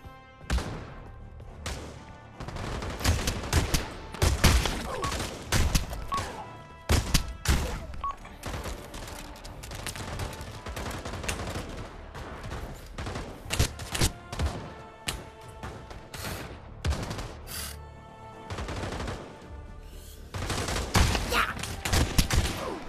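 Gunfire in the VR shooter game Pavlov VR rattles through a gun battle: repeated sharp shots and rapid bursts come in uneven clusters for the whole stretch, loud and close.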